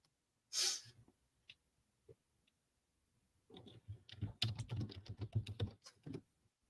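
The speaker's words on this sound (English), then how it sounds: "I'll get to beat you now if I'm typing in the live chat" Someone types on a computer keyboard during a live-streamed show, a soft, close patter of rapid key clicks after a few scattered taps, quiet with no talking over it.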